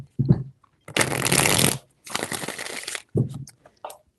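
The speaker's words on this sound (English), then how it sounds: "3 shuffles." A deck of tarot cards is shuffled by hand in two long crisp riffling bursts, close and loud, framed by brief soft taps and thumps of the cards being handled.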